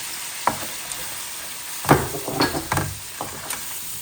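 A faint sizzle of flour cooking in a hot pan for gravy runs under a few scattered clanks and scrapes of a utensil stirring, with no talking.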